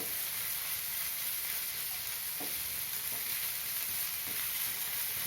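Tomato and onion sauté in a pan for egg masala, a soft continuous sizzle with a few faint stirring taps, quiet and close with no talking.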